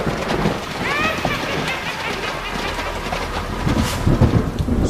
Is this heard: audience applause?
no